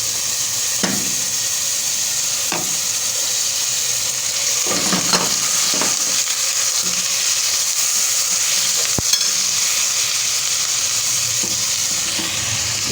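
Garlic and ginger frying with dried red chillies in a pan while potato and capsicum bhujia cooks, giving a steady close sizzle with occasional stirring clinks and taps and no talking.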